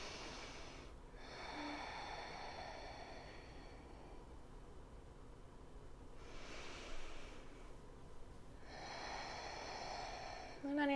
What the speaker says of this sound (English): Taking 2 more breaths here.